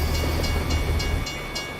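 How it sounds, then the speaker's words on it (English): Train rumbling in the Truck Simulator driving game, a steady low rail rumble with faint repeating clicks that fades slightly near the end, heard alone in the background. "You can hear a train here somewhere."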